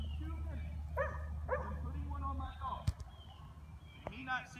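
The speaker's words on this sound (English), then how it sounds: "We have 22 people here out with all of our shelter dogs." Shelter dogs at an outdoor obedience class give short yips and barks over steady low rumble and crowd noise, with several sharp bursts scattered through.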